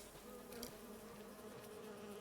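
Bees buzzing around a beehive in Farming Simulator 25, a soft continuous insect drone with a few brief closer passes, faint and steady without talk.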